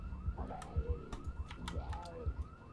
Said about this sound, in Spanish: Está sonando una alarma.